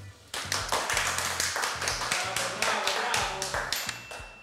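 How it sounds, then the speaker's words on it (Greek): A single person claps hands in a home kitchen during a cooking show, a quick run of close, sharp claps with faint low tones beneath. "Ένα χειροκρότημα."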